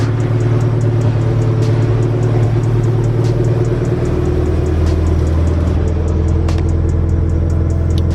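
A 2005 Mitsubishi Lancer Evolution 8 idles steadily in the cold after a new starter install, a loud continuous low engine rumble with faint ticking over it, running alone without talk.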